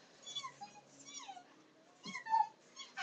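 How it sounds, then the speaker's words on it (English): A dog whimpers in soft, thin, high whines and squeaks, several short cries spread out at close range and fairly faint, with no clear talk. "It's the dog."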